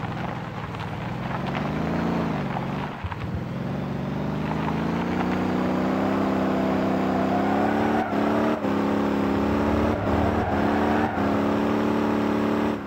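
Kombi van engine driving in Motor Town: Behind The Wheel, a 3.6 biturbo with 400 hp, a loud, continuous droning hum that rises and settles with revs, broken by a few brief dips, with no talk.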